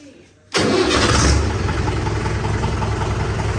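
A motorcycle engine fires up with a sudden loud onset and settles into a steady, rumbling idle close by, running continuously without further revving.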